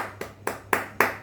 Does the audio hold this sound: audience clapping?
yes